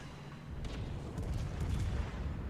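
A battleship's main guns fire a salvo in World of Warships, a deep rumbling boom swelling midway and rolling on under steady low engine and sea noise, with no talk over it.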